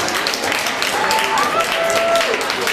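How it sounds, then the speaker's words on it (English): Applause and clapping from an audience at a Democratic campaign event, a dense steady wash of hands filling the space, with voices mixed in. "Another one, please, a round of applause."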